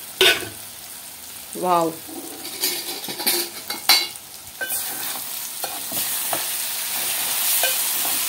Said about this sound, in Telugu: ఒక్కసారి కలుపుకుందామండి.